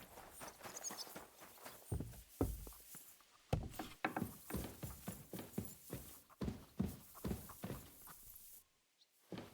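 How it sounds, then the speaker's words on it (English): Horse hooves clip-clop at a steady walking pace in Kingdom Come Deliverance 2, a medieval setting, with distinct close hoofbeats on a hard surface continuing throughout before a brief quiet near the end. "That looks like a bloody expensive horse."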